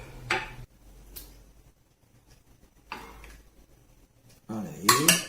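Boeuf bourguignon being plated: sharp, close clinks of dishes and cutlery come in separate bursts with quiet gaps between them, then build into a busier clatter at the end.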